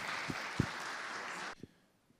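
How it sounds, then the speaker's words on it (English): A conference audience at a London VC summit pitch competition gives a steady round of clapping that cuts off abruptly, followed by a few scattered claps and faint room noise. "one more round of applause"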